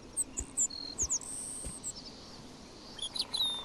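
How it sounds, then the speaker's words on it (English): A bird in the video game Beyond Eyes: quiet, scattered chirps and short tweets, some quick high trills, over a faint, soft background. "Is that a bird? Ah, it's a bird."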